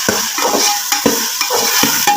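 Capsicum and finely chopped green chillies are sautéed in a pan for achari chicken macaroni, with a loud close sizzle broken by several quick, rhythmic spatula scrapes and tosses.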